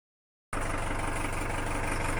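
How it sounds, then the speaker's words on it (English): A narrow boat engine idling after starting, a steady low rhythmic chug with a mechanical hum, starting suddenly after half a second of silence and running evenly throughout. "Okay, fired the engine up."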